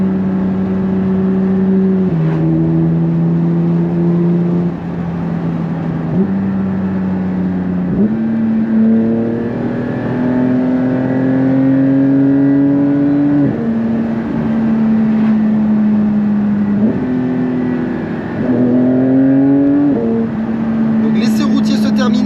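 Custom sport exhaust on a Porsche 911 992 GT3 Clubsport rumbles steadily and loudly up close, with repeated rising revs and gear changes across the run and no talk over it.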